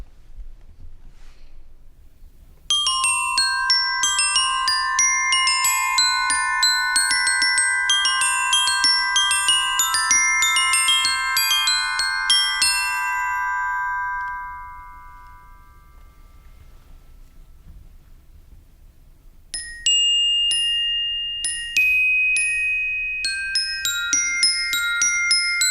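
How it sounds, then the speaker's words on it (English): Steel bars of a military band's glockenspiel ring out under hard mallets in bright, fast melodic runs, pausing with lingering decay before a second clear passage resumes, close and alone. "The bells, also called the glockenspiel, are an example from the pitched side of the percussion family"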